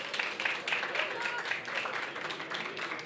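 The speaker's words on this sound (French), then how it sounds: "je vais vous présenter sous vos applaudissements nourris" Audience at a French business-creation presentation applauding, a steady patter of many hands clapping at moderate distance, fairly quiet and continuous for a few seconds.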